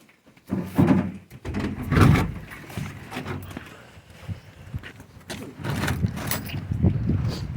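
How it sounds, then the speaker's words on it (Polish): A heavy door scrapes and rumbles as it is pushed shut with effort, thudding and creaking up close, with some shuffling movement around it. "a co te drzwi tak się ciężko zamykają"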